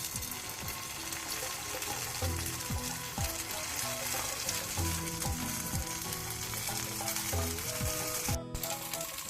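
Batter poured into the oiled wells of a hot appe pan for jackfruit paddu sizzles and fries steadily, a continuous close crackle broken by soft clinks of a utensil against the pan.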